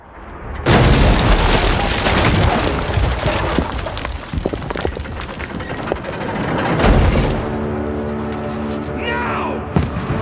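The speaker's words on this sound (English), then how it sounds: "Trebuchets, man. What an amazing weapon." Heavy trebuchet stone impacts in a medieval siege battle, a huge booming crash followed by sustained rumbling debris and chaos, with a second deep thud and shouting voices near the end.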